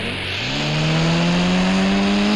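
A video game ATV engine revs up and holds a steady, rising drone, loud and close, with no talking over it.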